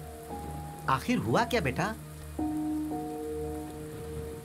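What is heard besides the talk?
heavy rain falling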